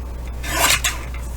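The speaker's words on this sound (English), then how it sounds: "I'm just going to cut that piece off, and I'm just going to trim a little bit on the bottom here because it's a little damaged" Scissors trim a damaged strip off an index card in one short, close rasping snip that swells and fades within a second, with nothing else heard.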